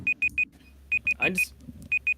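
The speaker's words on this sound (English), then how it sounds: "Where's that beeping coming from? It's probably a timer." A timer beeping in a room, a series of short, evenly spaced electronic beeps with brief pauses between groups, fairly loud and close, with a little background noise and a short murmur partway through.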